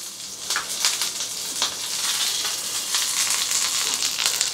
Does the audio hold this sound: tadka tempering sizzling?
yes